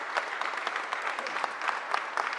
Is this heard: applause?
yes